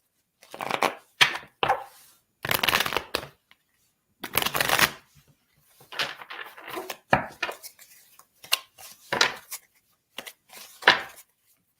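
Tarot cards being shuffled by hand in a series of separate close riffles and slides, each a short papery burst with small gaps of near-silence between them.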